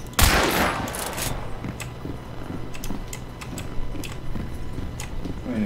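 Gunshots in the video game Hunt: Showdown, a scattered series of sharp, faint cracks heard at a distance over a steady outdoor ambience.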